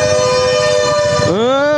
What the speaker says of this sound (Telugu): హారన్ కొడుతూనే ఉన్నాడు అంకుల్